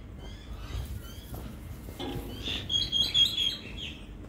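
A bird chirps at Caringbah train station, giving a short burst of high, rapid tweets partway through over a faint, hollow platform background.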